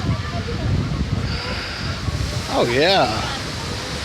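Water rushes steadily through river locks at Bulabog Putian National Park in Iloilo, Philippines, a constant broad hiss behind a voice that speaks briefly near the end.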